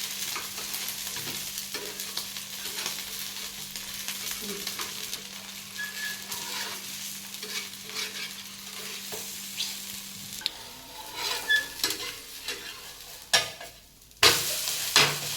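A fasting dosa sizzles in ghee on a pan, a steady quiet frying hiss with scraping and tapping of a spatula as it is flipped, ending in a louder burst of clatter and sizzle.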